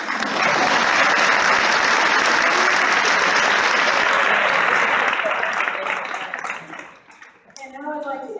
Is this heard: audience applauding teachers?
yes